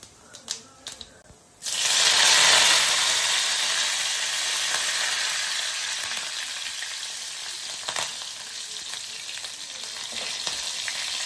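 Food frying in a pan during home cooking of a mutton dish: a few faint clicks, then a loud, steady sizzling hiss bursts in and carries on close by, easing slightly but never stopping, with no talking.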